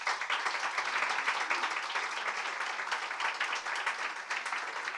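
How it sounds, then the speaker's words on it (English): An audience applauds filmmakers at a Berlin School film talk, with steady, dense clapping filling the room from start to finish at an even level. "Let's give them a big round of applause again"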